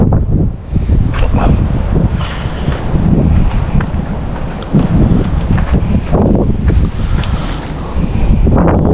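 Strong wind gusting across a riverside fishing spot on the Cooks River, loud buffeting rumble against the microphone with fluctuating gusts and no talking.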